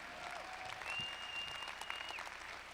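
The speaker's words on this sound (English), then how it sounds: "Somebody clap your hands like you're going to start pulling stuff down." Audience clapping at a Christian conference sermon, a dense, steady wash of applause across the whole stretch with a faint sustained tone running above it.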